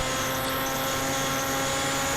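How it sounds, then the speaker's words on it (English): An FX-61 Phantom RC plane circles overhead on Arkbird autopilot, its electric motor and propeller giving a steady whining drone with no talk. "The Arkbird Autopilot will once again circle the plane overhead"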